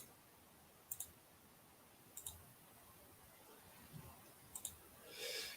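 Computer mouse clicked in quick pairs at a desk, soft and close, with a few scattered double-clicks and no speech.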